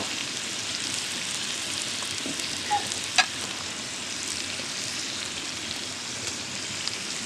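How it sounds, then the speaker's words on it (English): A browned roast sizzling in a Dutch oven over bacon and onions, a dense, steady crackling hiss like rain, with one or two faint clinks and no talking. "we're going to put it in our Dutch oven over our bacon and onions"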